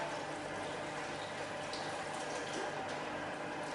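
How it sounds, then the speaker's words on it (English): Courgettes are swirled in cold water to wash them, giving a faint, continuous sloshing and bubbling of liquid with no talking. "So I'm going to give those a swirl, get off any pesticides or dirt in cold water."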